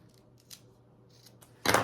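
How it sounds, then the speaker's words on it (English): Scissors trimming a zipper and tab while sewing, a few faint snips followed by one loud, sharp close cut at the end. "you're going to trim down the zipper and the other side of your tab"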